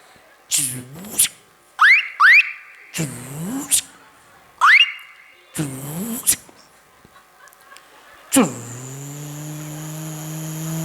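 A voice imitates a car horn with several sharp honks before reversing, then mimics an engine starting and droning steadily to the end, in a comic mimicry performance.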